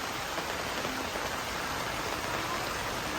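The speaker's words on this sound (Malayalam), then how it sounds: "നല്ലോണം മഴ പെയ്യുന്നുണ്ട്" Heavy rain pours steadily during floor construction work, a dense, continuous hiss of drops drumming on surfaces with no pauses and no voices, fairly loud and even throughout.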